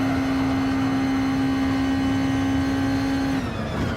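Nissan GT-R Gr.2 race car engine in Gran Turismo Sport holds a loud, steady high-revving drone at wide open throttle through a fast bend, then briefly drops pitch near the end.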